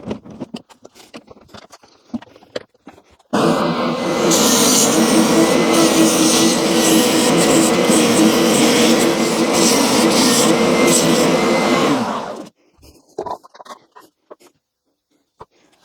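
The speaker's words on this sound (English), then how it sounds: "Let's get it on the sander and then we'll make the other one." Sander working on a rough-cut plywood foot for DIY lawn aerator shoes: a loud, sustained grinding rasp running for about nine seconds between quieter stretches of clatter.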